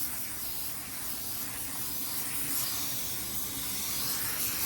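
Spray gun laying a half coat of paint onto a car fender, a steady continuous hiss at moderate distance with no talking.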